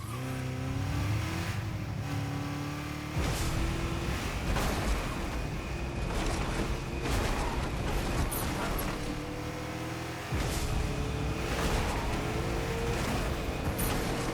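A car drives through a Fortnite Chapter 2 Remix zero-build match, its steady engine drone running loud and continuous with shifting pitch and a few abrupt cuts, mixed with busy game effects throughout.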